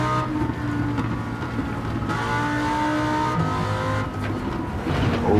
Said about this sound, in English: I can't lie, this Huracan sounds amazing.